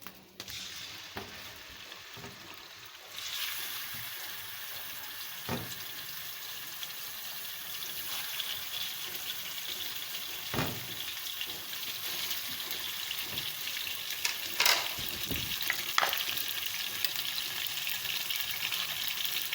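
Minced meat fries in hot oil for aloo keema, a continuous close sizzle that swells louder after a few seconds, broken by occasional knocks of a spoon against the pan.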